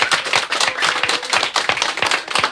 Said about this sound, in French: Vous pouvez vous applaudir et même crier,